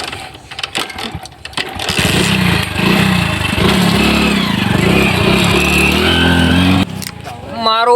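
A motorcycle engine idles and revs loudly and steadily for several seconds, close by, with people talking over it at the start and near the end.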